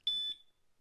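A short electronic beep from a Cranns alarm disc lock, a single clear high tone lasting about a quarter second, close and alone with a faint fading tail.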